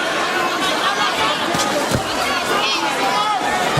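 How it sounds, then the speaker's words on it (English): A boxing arena crowd roars after a punch lands in the Pacquiao versus Mayweather fight, a dense sustained wall of cheering and shouting with a commentator talking over it. "Brings a roar from the crowd, too."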